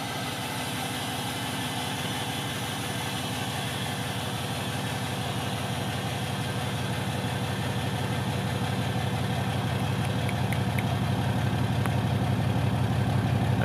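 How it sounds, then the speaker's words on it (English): A 6.7 Cummins diesel idles with a straight-pipe exhaust, giving a loud, steady, close-up low rumble with rhythmic pulsing that grows slightly louder toward the end, with no voices. "And you got the diesel rumble."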